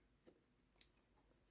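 Scissors snip embroidery thread at a Janome Memory Craft 10001 embroidery machine: a faint click followed by one sharp, close snip in an otherwise quiet room.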